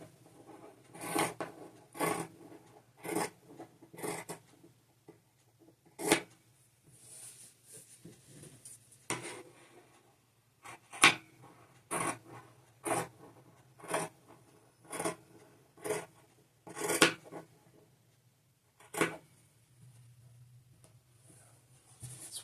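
Scissors or a rotary cutter snipping through bandana fabric for a face mask, a series of crisp, close cuts in irregular bursts with short pauses between them.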